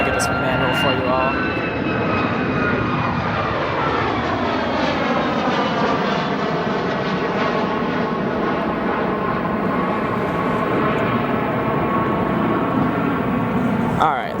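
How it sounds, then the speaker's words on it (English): Aircraft jet engines roar at O'Hare International Airport, a loud sustained rumble with a shifting whine that sweeps down in pitch as a plane passes close by. "you still get the sound of the beautiful aviation noises here at O'Hare"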